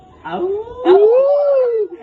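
A person imitates a dog's howl at a birthday celebration, voicing one long, wavering howl that rises and then slowly falls, loud and close to the microphone after a brief vocal lead-in.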